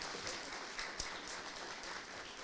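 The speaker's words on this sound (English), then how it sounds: "Let's give them a round of applause" An audience at a Gwinnett Historical Society event gives a round of applause for two local leaders, a soft, fairly distant patter of clapping that continues evenly.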